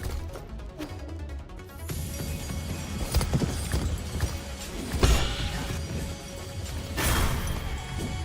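A horse enemy in a video game, heard as rhythmic hoofbeat clip-clops with heavy crashing impacts and game effects, fairly loud and continuous, no talking.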